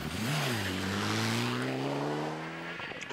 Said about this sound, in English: Neil Simpson, thinking the Peugeot had just blown an engine, squeezed through.